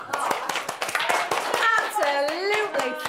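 Children in a classroom clap in loose, distinct bursts of individual hand claps, close and fairly loud, while children's voices chatter and call out over them.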